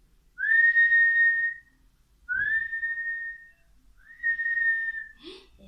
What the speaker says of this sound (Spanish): Es un silbido